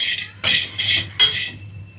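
Cinnamon, cardamom and cloves dry-roasted in an empty pan, heard as three short bright rattling scrapes of whole spices over a quiet low hum.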